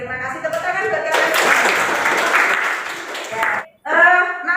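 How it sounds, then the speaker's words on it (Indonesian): A class of students applauds: steady, fairly loud clapping lasts a few seconds, with a teacher's voice before it and after a short pause. "tepuk tangan buat kalian"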